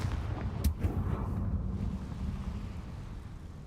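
A Confringo fire spell explodes in Hogwarts Legacy: a sharp blast followed by a low rumbling roar that fades over a few seconds, moderately loud and alone.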